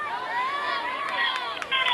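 Traveling Lancaster fans in the stands at a regional semifinal soccer match against Fairfield Union, a steady dense crowd murmur with brief rises of cheering, heard at a distance and fairly loud throughout.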